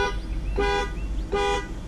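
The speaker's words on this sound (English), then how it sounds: "There you hear our alarm going off." Horn of a 2020 Ford Expedition sounding as its active alarm goes off, two loud, evenly spaced honks close by, with a low steady hum underneath and no talking.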